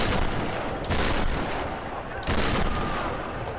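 Enemy gunfire in Tomb Raider Definitive Edition on PS4, loud sustained bursts of shots in two close waves with a brief dip between them.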